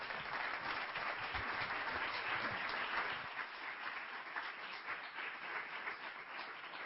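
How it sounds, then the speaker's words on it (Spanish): An audience applauds a speaker at a talk event, a dense, steady wash of clapping that fills the whole stretch and eases only slightly toward the end. "Quiero pedir un fortísimo aplauso para Pablo Villarrubia."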